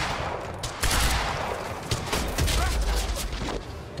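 Heavy, sustained gunfire from enemies in the video game Quantum Break rattles in dense bursts with booming impacts, loud and continuous, with a player's voice talking over it.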